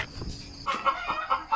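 Chickens in a farmyard give short, soft clucks and chirps, faint and scattered, with quiet background noise between the calls.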